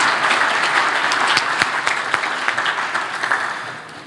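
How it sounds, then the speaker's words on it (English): Gala banquet audience applauding a keynote speaker, a full, even round of clapping close by with a few sharp claps standing out, tapering slightly near the end. "let's give a big round of applause to our keynote speaker, Nate Holland"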